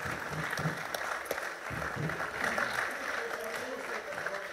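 Audience applause at a cabaret roast performance on stage in Lublin with the LUK Lublin team and Kabaret Smile, a steady, moderately distant wash of clapping with a few voices mixed in.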